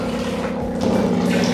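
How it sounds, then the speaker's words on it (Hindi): Water runs steadily from a Kangen water ionizer machine's spout with a constant humming flow, growing slightly fuller partway through. "जिसके लिए मैं इस मशीन से पानी निकाल रहा हूँ।"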